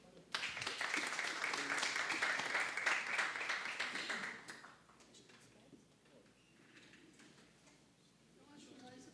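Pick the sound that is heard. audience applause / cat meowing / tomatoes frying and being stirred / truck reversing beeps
audience applause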